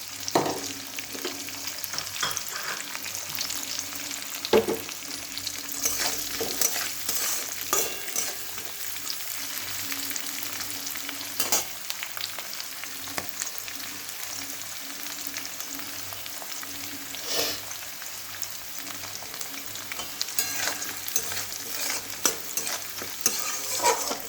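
Chopped vegetables for chire polao (flattened rice pulao) sizzle lightly in a pan while a spatula scrapes and stirs at irregular intervals, a steady close frying hiss throughout.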